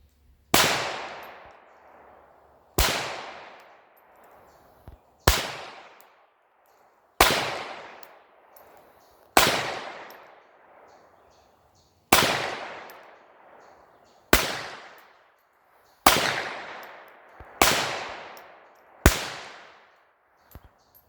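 Ten sharp .22 pistol shots fired one by one at clay targets on an outdoor range at long distance, each crack followed by a decaying echo, spaced roughly two seconds apart, loud and close, with no talking.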